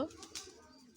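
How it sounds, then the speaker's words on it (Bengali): Pigeons coo softly at dusk while being given food, along with chickens. A brief, faint coo or two sounds fairly close against quiet surroundings. "কচু আপু ওই যে সন্ধ্যার আগে কবুতর মুরগিকে খেতে দিল"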